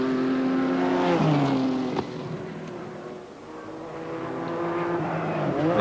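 Race cars at Amaroo Park circuit in 1989 sweep past the start-finish line, engines rising and falling in pitch as they go by at moderate distance, one pass after another with no talking.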